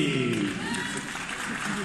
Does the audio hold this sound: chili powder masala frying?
no